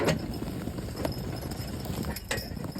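Horse hooves clop on a hard surface at a steady walking pace, close by, with a few sharper strikes standing out.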